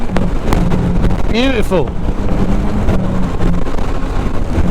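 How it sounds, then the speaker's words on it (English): Strong wind roars steadily over a moving motorcycle, a loud, dense buffeting rush that never lets up, with a voice speaking briefly over it. "That is wind. Proper wind, that is."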